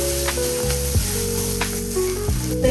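Ingredients for oats khichuri fry in a pan with a constant bright sizzle, broken by several scraping stirs of a spoon against the pan, close and loud with no talking.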